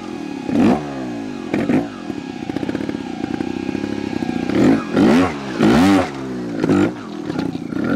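A Vertigo Nitro 300 trial motorcycle (2022) revs hard in second gear on wet ground, with several sharp, loud throttle bursts rising and falling over a steady close engine idle, no talking.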